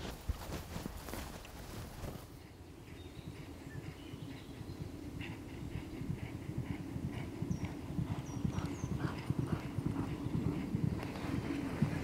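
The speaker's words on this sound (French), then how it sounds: "Donc là, c'est quoi comme type de galop, ça? C'est un galop de chasse." Racehorses at a hunting gallop, a dense, steady drumming of hoofbeats that runs continuously at moderate distance, with faint bird chirps above it.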